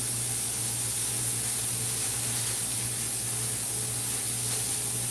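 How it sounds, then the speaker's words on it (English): Food sizzles in a pan on a stove, a steady close hiss with faint crackle that runs without a break, and no voices. "It's not a bad thing to hear the stove sizzling like that."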